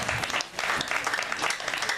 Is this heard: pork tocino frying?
no